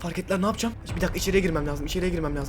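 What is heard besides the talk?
No distinct noise like a dog, phone or traffic.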